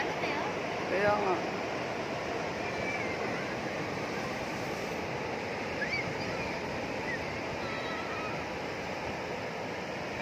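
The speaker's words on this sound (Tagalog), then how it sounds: "Ito na nitong alon eh, oh." Ocean waves wash continuously onto a beach at Casiguran in a steady roar, with faint voices now and then in the background.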